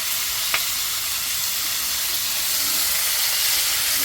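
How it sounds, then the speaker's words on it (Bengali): Fish frying in a pan gives off a steady, even sizzle with a soft hiss throughout, plus one brief click near the start and no voices. "আর এখানে মাছ ভাজছে"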